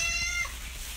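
A cat meows once, close and fairly loud, a short rising-then-falling cry over a low background hum.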